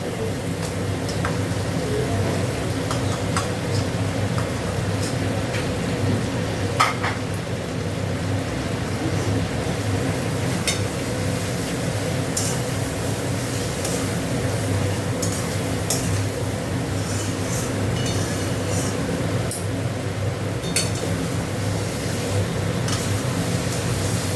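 Mutton mince with fat frying in a pot, a dense continuous sizzle and crackle with occasional sharper spatters over a low steady rumble, close and loud.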